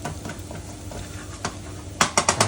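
Ginger and garlic stirred in hot oil in a wok with light sizzling, then a few quick sharp scrapes of a utensil against the wok near the end.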